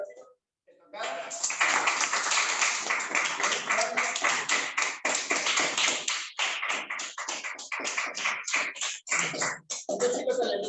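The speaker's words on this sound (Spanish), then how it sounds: "También un aplauso para los chicos que tocaron" Applause from a concert audience for young musicians, a sustained burst of many clapping hands that begins after a brief pause and gradually breaks into sparser claps, with speech mixed in.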